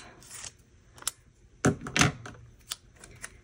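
Scissors cut floral paper in half for a journal, giving a few close, crisp snips with two stronger cuts in the middle and light paper rustle between them.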